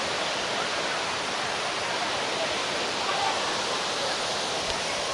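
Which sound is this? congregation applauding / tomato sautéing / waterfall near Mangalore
waterfall near Mangalore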